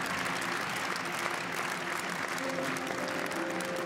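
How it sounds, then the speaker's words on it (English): Crowd at the Swiss Open 2013 badminton final applauding the champion, dense continuous clapping filling the arena with a commentator's voice faintly underneath. "Crowd giving him a huge round of applause."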